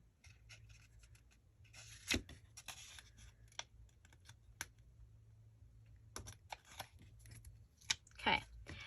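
Scissors snip through paper in a scrapbooking pocket-page project, a run of quick close crisp cuts and rustles with short pauses, fairly quiet with a low hum beneath.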